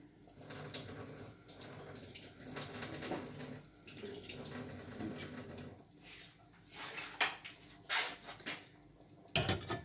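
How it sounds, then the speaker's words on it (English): Two tablespoons of water go into a pan of jam in a home kitchen, a faint splash and trickle among quiet clinks of utensils and pans, with scattered brief clatters. "So let's pop in 2 tablespoons of water."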